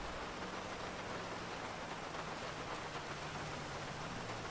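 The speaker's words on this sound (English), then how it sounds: "It's fucking raining like cats and dogs at me, man." Steady rain pours in an open-world roleplay video game, a dense, even hiss of falling water heard close and continuous for the whole stretch, with no talk over it.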